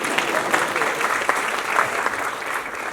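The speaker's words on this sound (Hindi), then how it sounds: "ताली आप बंद क्यों कर दिया?" An audience applauds at a large public event in Mumbai, a dense sustained clapping that holds steady for the whole stretch with no pauses, loud and close.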